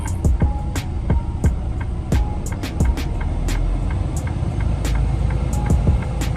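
Car traffic in New York: a continuous low road rumble with frequent sharp clicks and knocks scattered throughout, and no talk.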